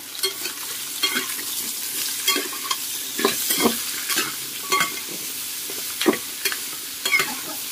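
Pumpkin pieces being stirred into a hot pan of fried tempering for a sweet pumpkin curry, with a low steady sizzle broken by repeated scraping stirs of the spoon, close and clear, no talking.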